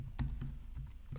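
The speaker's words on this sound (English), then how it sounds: "I would like to demonstrate what's gonna happen when I press Command plus S on my keyboard" A handful of crisp keystrokes tap on a computer keyboard during code editing, spaced irregularly and close up, with no talking.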